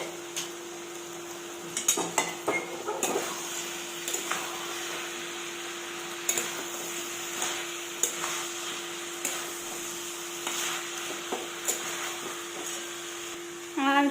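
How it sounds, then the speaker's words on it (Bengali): Cabbage Manchurian in a pan, fried cabbage balls being stirred into tomato-based Manchurian sauce with spices, utensil clinks and scrapes against the pan coming in irregular bursts over a faint steady hum. "বড়াগুলো ঢেলে দিলাম এবার নাড়তে হবে"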